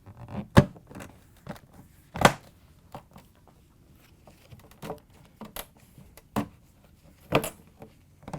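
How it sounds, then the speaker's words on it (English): Plastic halves of a Samsung washing machine door are pressed and snapped back together, giving a series of sharp clicks and knocks, a few louder snaps among quieter taps and handling noises, close up. "Once you have it in place, you can just snap it back together."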